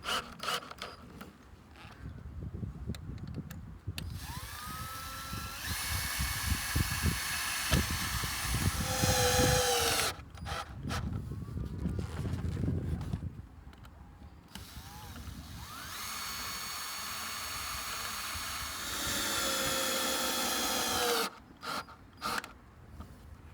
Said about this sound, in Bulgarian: Прихващаме краищата с винтове на всяка гофра.